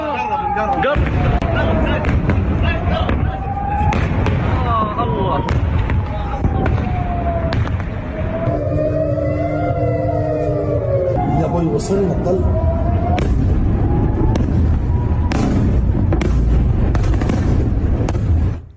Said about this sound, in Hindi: ये आप देखिए दर्शक, तेल अवीव पर कैसे धमाका किया गया है।